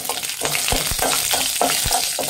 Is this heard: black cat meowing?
no